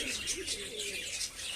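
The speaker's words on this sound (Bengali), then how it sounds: "পায়রাগুলোকে একটু খাবার দিলাম" Pigeons cooing and chirping at an evening feeding, a soft steady run of low murmuring coos with brighter calls layered above, fairly close and continuous throughout.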